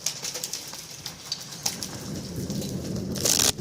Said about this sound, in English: What's coming down? It's turning into rain?